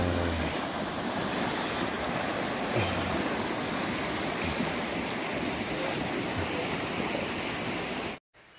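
A river rushes steadily beside a campsite in Ciwidey, Bandung. The water makes a loud, constant wash that lasts almost the whole time and then cuts off abruptly near the end.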